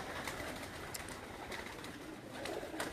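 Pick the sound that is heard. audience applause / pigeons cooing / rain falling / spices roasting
pigeons cooing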